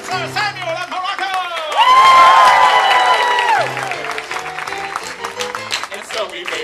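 A Disneyland Tangled live show audience claps and cheers for Sir Samuel and Morocco, a crowd roar rising beneath a loud announcer's voice and backing music, then settling into lighter applause.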